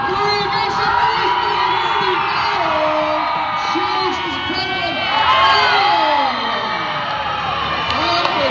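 A school crowd of students cheers, whoops and yells loudly and steadily throughout, a dense wall of high excited voices with rising shrieks near the middle.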